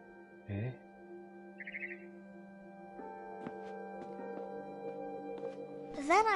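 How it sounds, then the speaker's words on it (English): Short, bright bird chirps outside a window in a horror video game, a brief twittering burst standing out over a steady ambient hum and low game tones. "Then I heard chirping outside my window."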